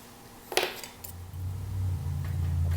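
An engine piston oil ring is handled and set up on a bench during a ring-gap check. One sharp metallic clink comes first, then a couple of softer taps, and a low steady hum rises underneath.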